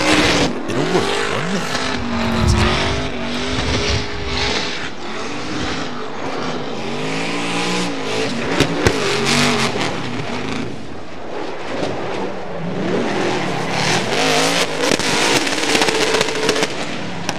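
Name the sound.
drift car engine revving and tires squealing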